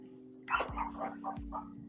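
A dog lets out a short run of quick barks and yips, moderately close, over a steady low hum indoors during a robot-combat livestream.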